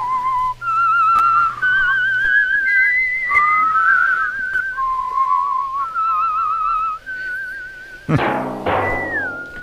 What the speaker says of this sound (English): I hope my whistle was good enough for you guys.